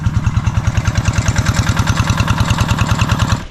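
An irrigation pump machine's engine runs at a steady idle, chugging in quick, even pulses up close with a constant mechanical drone, and no voices over it.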